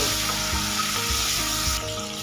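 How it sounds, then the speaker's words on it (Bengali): Prawns fry in hot oil, giving a brief, loud, continuous sizzle over a steady low mechanical hum, close by and with no speech. "এবার এর মধ্যে চিংড়ি মাছগুলো ভেজে নেব বেশি কিন্তু ভাজবার প্রয়োজন নেই তিরিশ থেকে পঁয়ত্রিশ সেকেন্ড ভেজে নেব"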